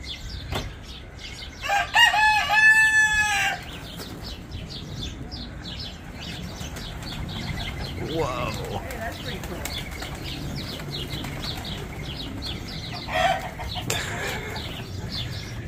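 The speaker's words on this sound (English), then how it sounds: "There's the chicken." Chickens cluck with a rooster crowing, in bursts near and clear over steady outdoor background noise, while people chat nearby.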